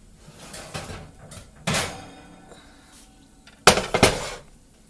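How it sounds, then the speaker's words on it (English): Oven door opening and a metal pan of ribs sliding out in a home kitchen, with a few sharp clanks and rattles of cookware spaced apart, close and fairly loud, then a final cluster of bangs as the pan is set down. "we're going to go in the oven and pull the ribs out"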